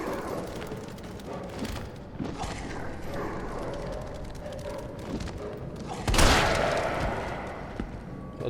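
Resident Evil 3 Remake gunfire with a sharp blast partway through, set among mechanical clanks and thuds; no one speaks.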